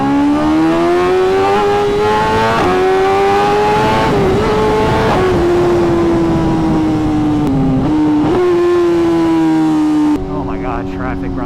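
BMW S1000RR motorcycle engine in Dallas traffic, a loud close steady drone with a few shifts in pitch and brief changes of throttle, running almost unbroken for the length of the clip.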